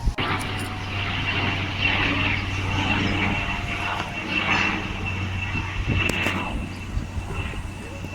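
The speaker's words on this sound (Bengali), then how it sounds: "এই দেখো হেলিকপ্টার যাচ্ছে, কেউ দেখতে পাচ্ছ?" A steady engine drone from a helicopter passing overhead, continuous and moderately loud, with faint background noise throughout.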